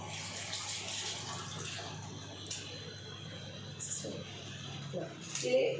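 Hands are washed under a running tap at home during a family cooking session, with a soft steady stream of water and occasional splashes beneath nearby talk.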